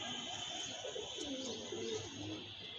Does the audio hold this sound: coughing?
no